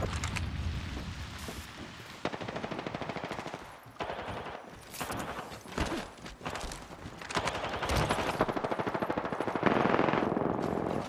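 Dense, sustained automatic gunfire rattles through a video game firefight, with rapid bursts, overlapping shots and near-continuous loud volleys throughout.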